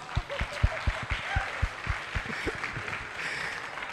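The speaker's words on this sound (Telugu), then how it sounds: "కాబట్టి కొట్టొచ్చు క్లాప్స్" Audience applause at the Kuberaa film success meet, a dense wash of clapping from a large crowd that fades toward the end, with a voice speaking over it.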